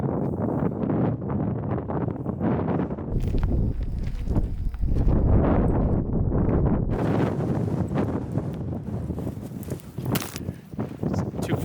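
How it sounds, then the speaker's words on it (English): Strong wind at a Death Valley campsite, buffeting the microphone in continuous loud rumbling gusts that swell and ease throughout, with faint rustling beneath. "It's too fucking windy today."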